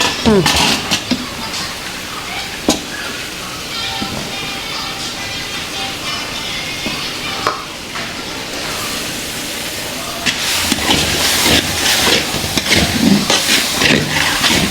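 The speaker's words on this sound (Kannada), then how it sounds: "ಹಸಿ ವಾಸನೆ ಹೋಗಬೇಕು, ಅಲ್ಲಿವರೆಗೂ ಫ್ರೈ ಮಾಡಬೇಕು" Green chili paste frying in a large pot for a big batch of biryani: a loud, steady hiss and sizzle, with clattering and stirring sounds that grow busier toward the end while people talk nearby.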